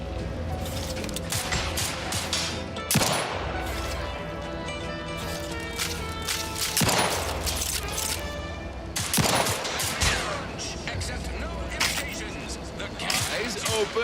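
Gunfire in the video game Outer Worlds 2: loud single shots and short bursts land every few seconds. Game dialogue and background music play underneath.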